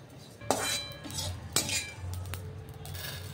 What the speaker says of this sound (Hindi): जीरा के लिए तेल की बिल्कुल भी ज़रूरत नहीं है, ऐसे ही भूनना है।